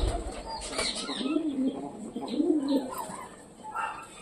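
A teddy pigeon coos close by in soft, low, repeated rolling calls. A faint rustle and background noise sit underneath.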